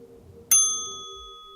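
A single bright ding from a tram bell on a Blackpool tram rings out once, sharp and clear, its metallic tone lingering and slowly fading over a quiet background.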